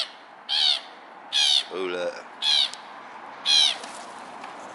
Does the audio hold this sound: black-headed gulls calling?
yes